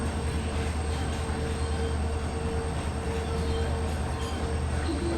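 The Rajasthan Sampark Kranti Express, hauled by an EMD diesel locomotive, rolls along at speed near Jaipur, a loud continuous rumble of wheels and carriage noise with a faint steady whine on top.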